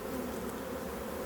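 Honey bees drone steadily inside an opened hive during an autumn inspection, a continuous close, dense buzzing hum with no voices.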